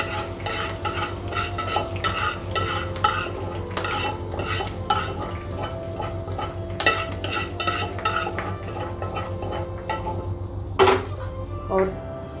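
Rabri kheer being stirred in a pan, with repeated scraping and clinking of a spoon against the metal in an uneven rhythm, close and fairly loud, with a few sharper knocks near the end.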